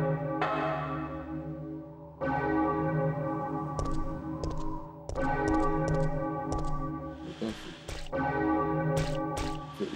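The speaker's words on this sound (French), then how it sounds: "ça y est, j'ai fait sonner la cloche" Heavy church-style bell tolling in the video game Resident Evil 3 Nemesis, several loud resonant strikes spaced a couple of seconds apart, each ringing out with a long humming decay, with no talk over it.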